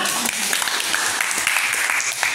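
A group applauds together in a classroom-style session, a dense, steady wash of many hands clapping that holds at an even level throughout, with some voices mixed in.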